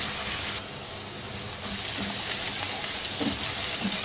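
Chopped onions with turmeric cook in a pan for okra-and-onion bhindi, giving a steady hissing sizzle that shifts in intensity throughout, with no voices.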